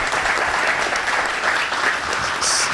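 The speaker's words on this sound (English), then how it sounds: "maybe we could just give them a quick round of applause." An audience at the 2023 Commissioner's Breakfast for Championship Weekend gives a sustained round of applause, dense steady clapping that fills the room throughout.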